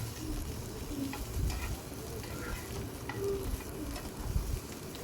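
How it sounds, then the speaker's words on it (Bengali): Sliced onion and capsicum fry lightly in a pan for chili chicken, a quiet, steady sizzle broken by repeated scraping stirs and low utensil thumps, close and without talk. "এটাও আমি হালকা করে ভেজে নেব"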